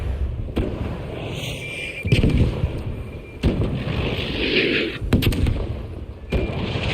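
Bombardier airstrike explosions in a video game, sharp blasts and booms going off at irregular intervals over a steady rumbling background.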